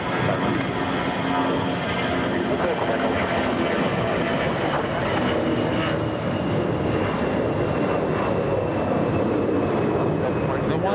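A plane landing on the parallel runway at LAX after a sidestep approach, heard as a loud, steady engine roar that fills the scene without pause, with no speech.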